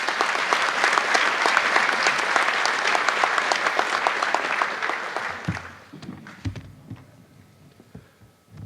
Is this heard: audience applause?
yes